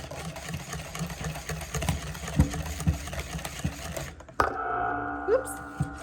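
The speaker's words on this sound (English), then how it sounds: "then just whisk it up." Homemade ranch dressing being whisked in a bowl, a busy rhythmic clatter of the whisk for about four seconds before the sound shifts to a steadier, quieter tone.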